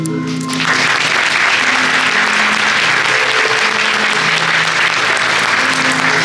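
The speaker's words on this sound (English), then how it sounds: "a round of applause to the team, crew members, and audience who made tonight's performance possible" An audience bursts into loud, dense applause after a musical theatre performance at Mandela Hall. The clapping starts abruptly and holds steady and close, with no voices over it.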